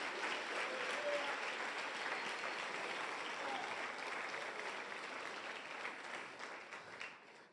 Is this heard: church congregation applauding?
yes